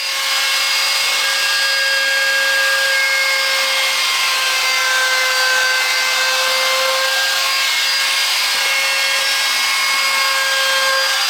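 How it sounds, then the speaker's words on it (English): A trim router fitted with a 1/8 inch roundover bit cuts along a hard maple edge, a steady loud whine with a constant high pitch that holds without a break from start to finish. "I'm going to be using a trim router with a 1/8 inch roundover bit"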